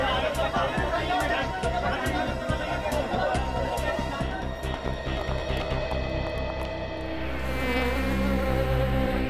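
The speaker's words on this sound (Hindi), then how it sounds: "भिन भिन आने की, मक्खी के भिन भिन आने की, अजीब सी आवाज है।" A housefly buzzes in a tense indoor scene, a thin whining drone running under people's chatter and sharp clicking, with a change in the background toward the end.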